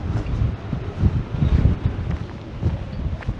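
Strong wind buffets the microphone high on the Čvrsnica mountain near Pločno peak at 2228 m, a steady loud roar with gusty low-end surges throughout.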